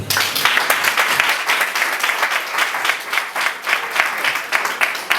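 A congregation at a church wedding breaks into sustained, dense applause that fills the room at an even, lively level throughout, with no pauses.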